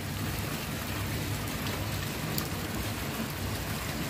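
Steady rain falls at sea: a dense, even hiss of drops with no pauses, moderately loud and close, and no voices.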